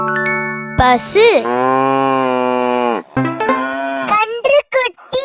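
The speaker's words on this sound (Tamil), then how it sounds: "பசு" A cow moos in a long, loud, drawn-out call, then gives a second shorter moo, clear and close with no talking.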